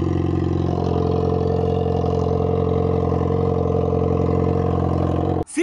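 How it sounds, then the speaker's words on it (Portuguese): A Yamaha XJ6 motorcycle engine with an aftermarket exhaust runs loud and steady, a rich droning idle held close by for several seconds before cutting off abruptly at the end. "Eu vou ligar a primeira moto e depois eu coloco o super cano pra vocês."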